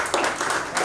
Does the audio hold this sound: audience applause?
yes